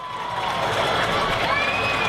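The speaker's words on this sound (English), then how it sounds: "Capacity crowd on hand." Capacity crowd in the stands at a Peabody vs. Huntingdon high school football game, a continuous wash of murmuring and scattered cheering heard from a distance at moderate level, with a faint whistle-like tone rising near the end.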